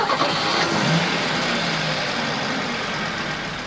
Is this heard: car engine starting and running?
yes